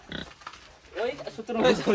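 A large pig grunts in a few short, rough snorts near the start, while someone talks over and after them.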